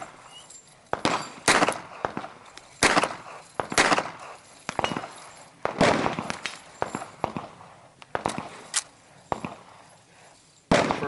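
Shots from an Artillery Luger pistol fired outdoors at a target 100 yards downrange, about a dozen sharp cracks at irregular intervals of one to two seconds, each loud and close with a short echoing tail.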